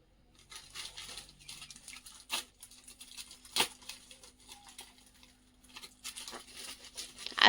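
A parcel of books being unwrapped, with soft crinkling and tearing of packaging, a few sharp rips and rustles coming and going at close range in a quiet room.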